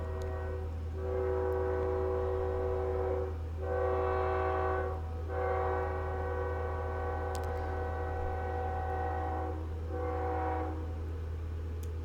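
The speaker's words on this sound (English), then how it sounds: "I think I hear a train." A train sounds its horn several times in sustained, harmonically rich blasts over a steady low rumble of rail traffic, heard from a moderate distance with no talk.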